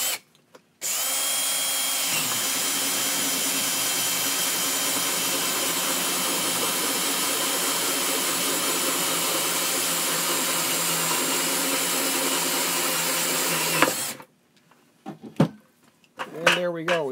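A power drill bores a hole through a plastic bucket, a loud sustained whine lasting about thirteen seconds, then cutting off abruptly, followed by brief handling noises and a short bit of speech.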